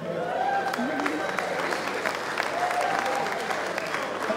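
A crowd at a live stage comedy show claps steadily and continuously, a dense, fairly loud wash of applause with a few voices mixed in.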